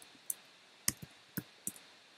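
A handful of sparse, crisp keystrokes on a computer keyboard, close and quiet, spaced unevenly with short gaps between taps.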